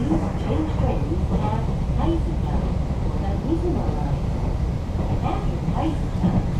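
Steady rumbling train noise from inside a Nankai Airport Line carriage between Kansai Airport and Osaka, banking on corners, with a person talking over the continuous rolling drone.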